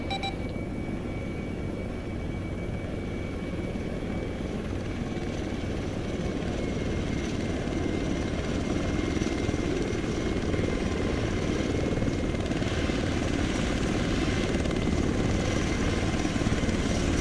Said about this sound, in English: Yes, have 1-3 load up in the chopper